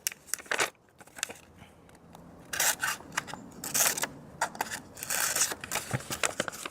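A Schrade SCHF57 fixed blade knife slices through paper in a series of rough, crackly cutting strokes, close and fairly loud, with irregular rustling bursts and short pauses between passes.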